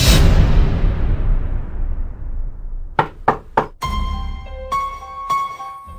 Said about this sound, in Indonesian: Kali ini, aku mendengar suara pintu diketuk.